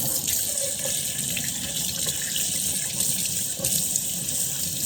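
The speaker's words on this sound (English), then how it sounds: "I'm gonna wash my hands." Steady faucet water runs into a kitchen sink for hand washing, a continuous close splash with no voices.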